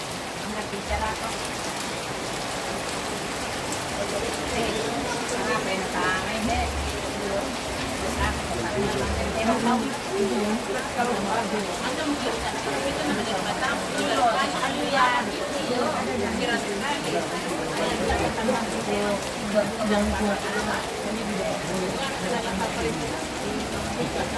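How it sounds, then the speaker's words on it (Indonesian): Heavy rain pours steadily throughout at an outdoor Toraja funeral ceremony, a continuous dense hiss with scattered drops, while people talk intermittently over it. "Hujan deras."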